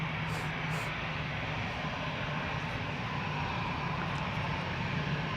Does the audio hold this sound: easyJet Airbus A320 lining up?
yes